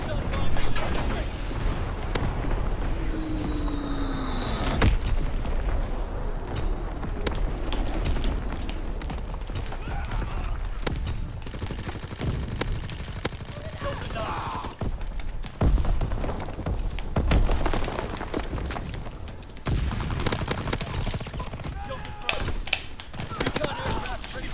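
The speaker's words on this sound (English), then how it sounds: "Firing division artillery." An artillery barrage in Call of Duty WWII: repeated heavy booms and crackling blasts roll through dense battlefield noise, with voices speaking over the gunfire.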